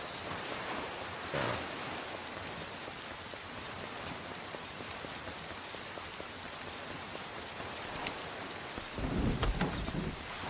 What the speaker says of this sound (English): there's a terrible storm raging this evening